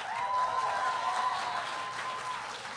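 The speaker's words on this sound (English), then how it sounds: "Applaud the poet." An audience at a high school poetry slam applauds a poet after the scores are read, a brief, dense burst of many hands clapping at a steady level.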